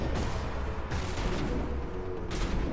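Sustained gunfire in the video game Mass Effect, a dense, loud stream of overlapping shots and mechanical clatter that continues without a break and without voices.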